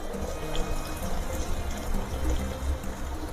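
Water poured into a clay pot while cooking dalma without onion or garlic, a steady close splashing pour running for a few seconds with no talk over it.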